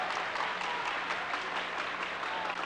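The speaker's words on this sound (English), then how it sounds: "the crowd's here now clapping" Dense, steady clapping from a large crowd at the 1995 World Taekwondo Championships in Manila, heard from a distance as a continuous even roar with faint voices underneath.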